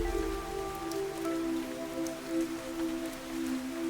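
Steady rain falls in the Fantasian Neo Dimension game, a soft continuous patter beneath a sustained, low musical tone, with no voices.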